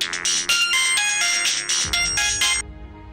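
Phone ringtone playing as a call is placed to a cousin, a bright repeating electronic melody, loud and close, ringing steadily for about two and a half seconds before cutting off.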